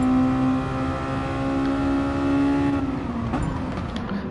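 A race car in a racing video game revs with a loud, sustained engine drone, the pitch holding steady then shifting slightly as the throttle changes, close and continuous with no talking.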